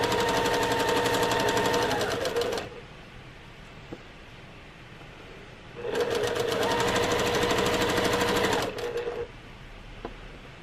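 A domestic sewing machine chain-pieces quilt fabric pieces with right sides together, running in two long, fast, steady buzzing bursts separated by a brief pause, close and loud with no talk.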